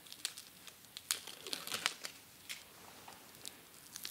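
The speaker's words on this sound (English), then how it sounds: "we're going to take the Velcro that they provided out of the package, and then we're going to peel off the backing" Velcro strip backing being peeled off by hand, a quiet run of crinkly crackling and tearing bursts with brief louder snaps, close and alone.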